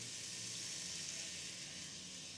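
Ingredients for chicken tikka biryani sautéing in a pan, a steady, soft, even sizzle with no break, fairly faint and heard alone.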